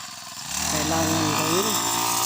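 A grass cutter powers up and cuts dry weeds in a rice paddy, its engine rising from quiet to a steady, loud, buzzing whine with shifting pitch as it bites into the grass.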